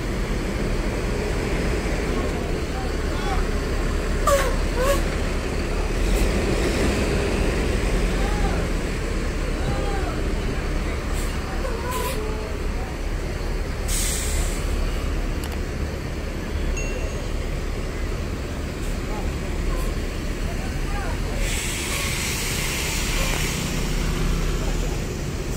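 An ANS "Single Glass" bus nicknamed "Si Bungsu" edges into a parking position, its engine a steady low rumble beneath outdoor ambience with passing traffic, brief hisses and a distant burst of noise near the end.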